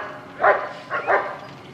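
Big dogs in an 1980s Halloween movie give a few short barks at moderate distance, one bark followed by a quick double bark, over quiet background.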